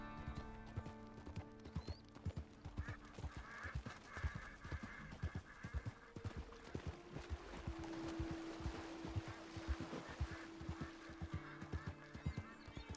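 Thoroughbred horse hooves clip-clopping in Red Dead Redemption 2, a steady trotting rhythm of distinct hoof beats close by, with faint animal calls and ambient tones in the background.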